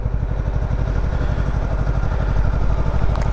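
A Honda CB125R motorcycle pulls away in first gear as the clutch is let out, a close, steady low engine putter with rapid even pulses, no talk.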